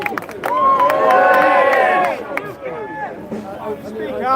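Crowd at an anti digital ID protest near Downing Street cheers and shouts loudly for a couple of seconds, then the noise drops to scattered voices and murmur.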